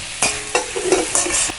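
Onions and tomatoes frying in a pan for Tamil-style chicken kulambu, with several sharp scraping stirs of a spoon over a soft background sizzle, close and with no talk.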